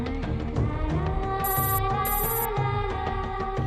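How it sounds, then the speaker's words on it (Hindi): An electronic phone ringtone repeats over background music during a tense scene in a Hindi-dubbed kidnapping movie, the ringing steady and fairly prominent throughout. "देखो फोन पे फोन आ रहे हैं"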